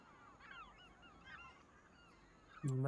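Geese honking in a farming video game's bird ambience, a faint distant flock calling repeatedly over low background noise, then a louder mechanical tone cutting in at the end.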